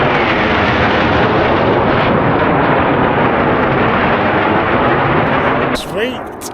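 A Eurofighter Typhoon fighter jet roars past over a snowy Scottish mountainside, a loud sustained broadband rumble that fills the whole stretch before dropping off abruptly near the end, with people reacting briefly as it fades.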